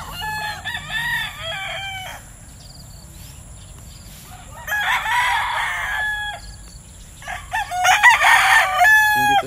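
Fighting roosters crow loudly three times in succession, each call a long strained cry, with quieter clucking and farmyard noise in between.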